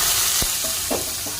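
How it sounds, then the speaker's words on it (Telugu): Hot tempering is poured into tomato rasam after the stove is switched off, giving a brief, bright sizzle with a few soft stirring clinks and bubbles close by. "స్టవ్ బంద్ చేసుకొని ఆ పోపు అనేది నేను టమాటా చారులో వేస్తున్నాను"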